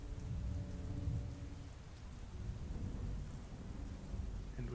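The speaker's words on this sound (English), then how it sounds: "the rain begins to fade" Steady rain pours down with rolling thunder rumbling low underneath, a continuous dense wash of storm noise with no voices.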